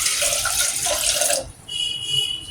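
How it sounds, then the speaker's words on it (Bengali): Water pouring into a cooking pot set on a stove, a loud steady gush that stops abruptly, followed by quieter trickling and dripping. "তারপরে পানি দিবা,"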